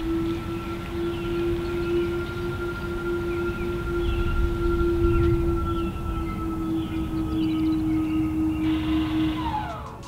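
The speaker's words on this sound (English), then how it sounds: "it makes kind of a cool humming noise when you're backing up" A Tesla Model 3 reversing gives a steady, constant electronic hum with a clear tone, running for the whole stretch over low road rumble, fading slightly at the end.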